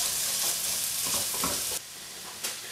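Finely minced half onion cooking in melted butter for cheeseburger soup, a loud, bright sizzle with stirring scrapes that drops suddenly to a quieter fry near the end.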